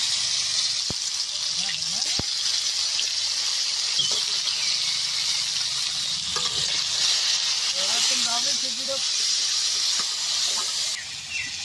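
Crab frying in hot oil in a village kitchen makes a loud, steady sizzle and hiss with bubbling crackle that carries through the whole stretch, with occasional stirring clinks and faint background sounds.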